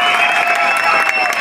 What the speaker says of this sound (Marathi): सर्वांनी जोरात टाळ्या वाजवायच्या आहे